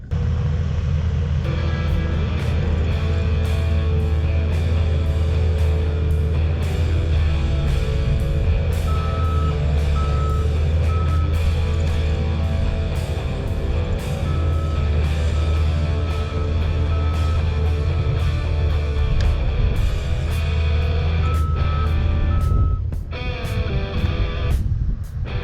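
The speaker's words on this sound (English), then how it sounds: "I hate riding on a slope in a Bobcat" A Bobcat skid steer drives on a slope, its engine a loud, steady, close drone. A repeated electronic beep sounds over it throughout, and the engine eases off briefly near the end.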